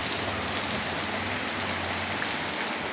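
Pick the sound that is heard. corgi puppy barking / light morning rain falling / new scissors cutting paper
light morning rain falling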